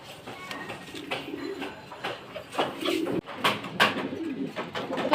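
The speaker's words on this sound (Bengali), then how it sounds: "তো এখন আসলাম মুরগি কবুতরকে খাবার দিতে।" Pigeons coo in a garden enclosure shared with chickens around feeding time, soft repeated calls against constant rustling and handling noise, fairly close.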